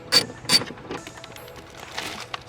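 A 10 mm ratchet loosens a tail light nut on a BMW E46 in two sharp, close clicking bursts, followed by fainter scattered mechanical ticks and rattles.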